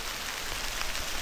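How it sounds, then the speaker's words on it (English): Heavy rain hisses steadily around someone riding a MAHLE M40 motor e-bike, a dense, even wash of noise with no talk. "I haven't ridden in this much rain since last winter."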